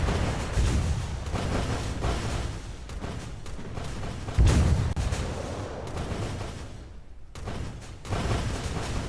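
Bombs explode in the naval battle game Azur Lane, a dense run of muffled booms and rumbling blasts with one heavier hit midway, continuous and loud throughout.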